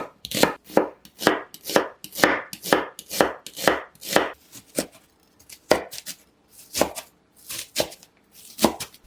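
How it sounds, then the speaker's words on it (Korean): A knife thinly slices onion against a cutting board in quick, steady strokes. Each crisp cut is clear and close, with short pauses between runs of slicing. "양파는 가늘게 채 썰어 줄게요."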